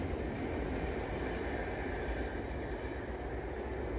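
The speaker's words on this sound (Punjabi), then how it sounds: "ਟ੍ਰੇਨ ਜਾ ਰਹੀ ਹੈ ਵੀ ਟਾਪੋ ਟਾਪ ਟ੍ਰੇਨ ਦੀ ਆਵਾਜ਼" A train rumbles past in a continuous, even roar, broad and fairly distant, holding steady throughout without any break or voices.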